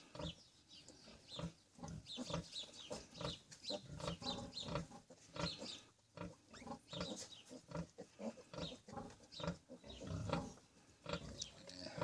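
Mangalica piglets from several litters after a mass farrowing squeal and grunt continuously, a dense, busy chorus of close, overlapping high squeals and snuffling with no pause.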